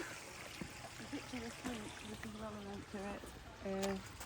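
A small brook flows through the gardens of a Peak District estate, its steady soft trickle and wash running beneath a voice talking nearby.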